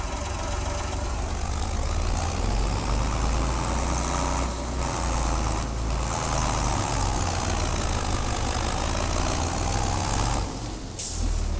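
An old tractor in Farming Simulator 22 drives into a river, its engine running as a steady, loud, low rumble throughout with no talk over it.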